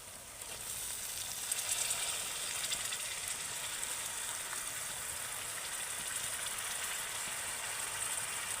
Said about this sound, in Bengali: এবার আমি এই চালটা মশলার সাথে ভালো করে আরেকটু কষিয়ে নেবো